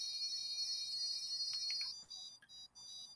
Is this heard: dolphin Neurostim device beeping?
yes